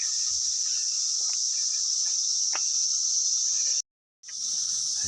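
Cicadas in Cosby, Tennessee during the 2025 emergence, a loud, steady high-pitched droning chorus that continues throughout with a brief cut near the end, faint clicks underneath.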